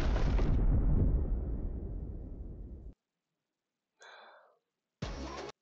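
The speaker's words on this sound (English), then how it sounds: "let's end with an explosion" A deep, rumbling explosion booms loudly and slowly fades over a few seconds, followed by silence and two brief later noise bursts.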